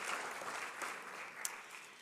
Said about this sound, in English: I think this deserves a round of applause for all of you.